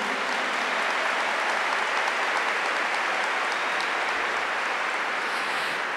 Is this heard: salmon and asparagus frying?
no